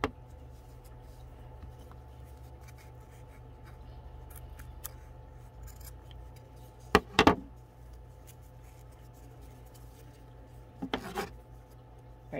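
Scissors snip and slice through fabric in a few short bursts, with a quiet low hum in the background and no talking.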